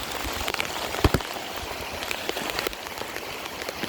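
Floodwater from heavy rain pours through a backyard fence in a Vestavia Hills yard, a steady broadband rush of water and rain with a few sharper splashes, close and fairly loud, with no talking.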